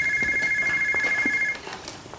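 Electronic telephone ringtone repeating steadily for about a second and a half, then cutting off, leaving faint room noise and scattered small sounds in an indoor scene.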